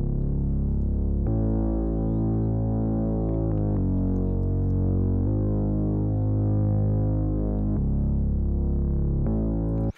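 Dense hip-hop beat, run through distortion, multiband dynamics and vinyl distortion effects, plays loud and continuous with heavy saturated bass and chord changes every second or two, no voices.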